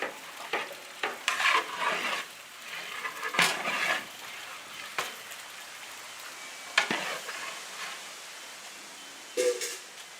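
Brinjal and tomatoes sautéing in a pan for a biryani brinjal chutney, a steady close sizzle broken by repeated scraping stirs and a few louder bursts of spoon strokes, with no talking.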